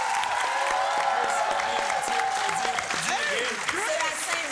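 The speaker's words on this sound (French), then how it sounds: "On peut les applaudir." An audience applauds contestants at a televised evening show, with steady clapping and light cheering under a host's continuous talk.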